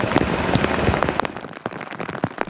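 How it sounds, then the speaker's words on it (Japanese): Heavy rain pelts down in Ichikawa, Chiba, during a typhoon with flooding roads, a dense, continuous hiss of drops striking surfaces up close, with sharp louder splats scattered throughout and no voices. "バシバシと音を立てる雨が降ってきました。"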